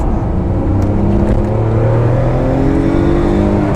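A Noble M12 GTO-3R sports car engine accelerating hard under aggressive throttle on a slight turn, a loud continuous rising drone heard from inside the car, with no talking.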